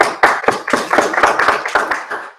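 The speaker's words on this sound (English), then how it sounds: "Give yourself a round of applause." Scattered hand claps ring out in a brief round of applause at the close of a hands-on workshop, a sparse group of sharp, uneven claps spread over a couple of seconds.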